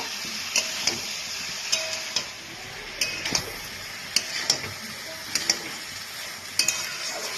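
Mixed winter vegetables with coriander powder frying in a pan while being stirred, a steady sizzle broken by repeated scraping and clinking strokes of a spatula against the pan, close and moderately loud with no talking.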